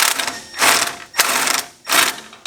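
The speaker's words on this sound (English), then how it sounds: "So I'm going to be using an angled piece to kind of get at some of these bolts because it makes it easier." Rapid ratchet clicking in three separate bursts, close and fairly loud, as an angled ratchet piece loosens 10mm fog light bolts on a Hummer H3. There are short pauses between the bursts.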